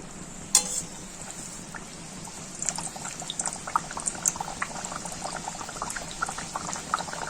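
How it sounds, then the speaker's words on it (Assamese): Puris deep-fry in hot oil, a soft bubbling, popping hiss that grows busier with small crackles, opening with a sharp clank and staying fairly quiet throughout. "এতিয়া তেল গৰম কৰি মই পুৰিখিনি ভাজি লম।"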